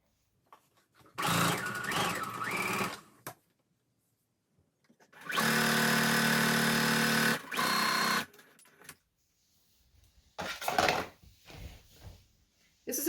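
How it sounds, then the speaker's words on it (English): A sewing machine stitching a fabric scrub cap runs in three separate bursts of steady whirring, the middle stretch longest, with quiet pauses in between. "you can sew the second one right behind it"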